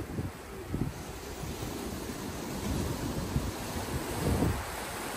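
Steady broadband wash of surf by the sea, with wind buffeting the microphone and soft swells rising and falling; no voices.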